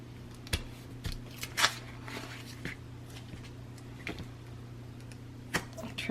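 Scissors snip through tape on a handmade scrapbook album cover, a few soft, crisp cuts spaced apart over a quiet room hum.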